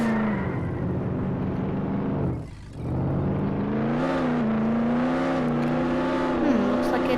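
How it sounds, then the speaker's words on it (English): Lamborghini engine in the Roblox game Jailbreak, a steady whirring drone with rising revs, briefly dipping before surging again and holding loud and close, with no talk over it. "Now let's check out this Lamborghini."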